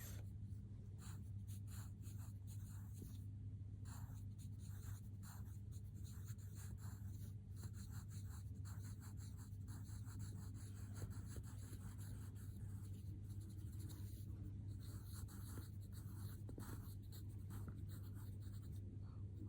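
A pen scratches steadily across paper in continuous short strokes while a table of calculations is written out, quiet and close, over a low constant hum.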